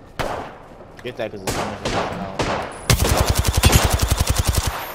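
Apex Legends weapons firing: a few spaced sharp gunshots early on, then a loud rapid automatic burst of evenly spaced shots, with a player talking over the gunfire.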